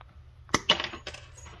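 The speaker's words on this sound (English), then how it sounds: "Let's cut a screw." Engineer PZ59 combination screw removal pliers bite through a metal screw, giving one sharp close snap followed by a brief crunchy crackle of the jaws finishing the cut, with no talking.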